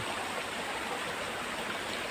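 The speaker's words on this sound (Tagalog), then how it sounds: "May natagong ilog dito sa Anguno pala." An unbroken rush of water from a hidden river in a secluded part of the Philippine countryside, a dense, close, steady stream sound with no speech.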